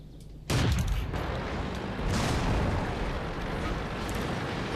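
An artillery shell lands in the World of Tanks game, a loud booming blast that swells suddenly and rolls on as a sustained, dense rumble with no voices over it.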